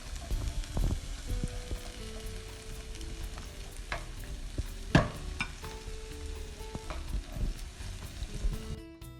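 Onions and carrots stir-frying in a hot pan for japchae, with a steady sizzle under occasional scrape and clatter of a utensil stirring the vegetables.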